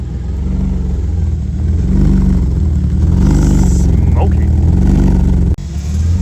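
Nissan S13 with a BMW M50 engine swap running loud and close, its deep, throbbing exhaust note pulsing steadily over several seconds before cutting out abruptly near the end.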